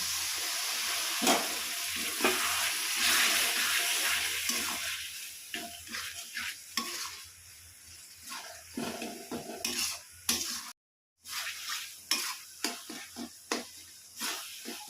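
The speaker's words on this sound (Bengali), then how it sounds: "আমি দিয়ে দিচ্ছি সামান্য জল।" A spice paste with tomatoes sizzles in a pan as a little water goes in, a soft hiss under repeated clinks and scrapes of a spoon against the pan, briefly cut off near the end.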